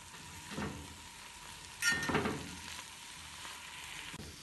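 Ground coriander, black pepper powder and garam masala sautéing in a pan for a vegetable curry, a soft steady sizzle with a couple of brief stirring scrapes, fairly quiet and without talk.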